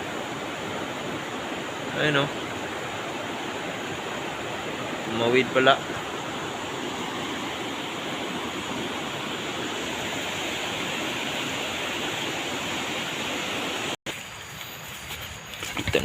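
Steady, loud rush of a strong-flowing river fills the whole clip near a hanging bridge, with brief voices speaking over it now and then.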